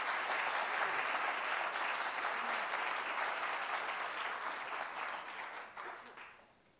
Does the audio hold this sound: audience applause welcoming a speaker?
yes